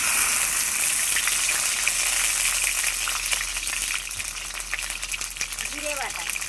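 Ginger and cumin pastes hit hot oil with a loud, steady sizzle and hiss that fills the whole stretch, easing slightly toward the end, with a few small clinks and a brief faint voice near the close.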